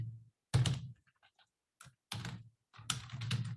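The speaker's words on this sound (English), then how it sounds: "I am typing here Jazz, and when I press enter, then it will print here" Keys on a computer keyboard tapped in short clustered bursts with brief silences between, close and crisp, with no talking during the typing.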